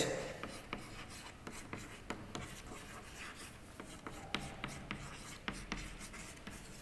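Chalk or marker writing on a classroom board during a physics lesson, a series of quiet scratchy strokes and taps at an uneven rhythm, close by against a soft room background.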